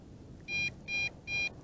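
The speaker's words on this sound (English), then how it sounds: "it's kind of a mixture of fail-safe return to home and low voltage return to home, because the beeps are alternating" A JJRC X8 Cetus drone sounds its return-to-home warning: three evenly spaced, high electronic beeps over a faint outdoor background.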